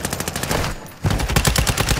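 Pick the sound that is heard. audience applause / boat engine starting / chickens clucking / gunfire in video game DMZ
gunfire in video game DMZ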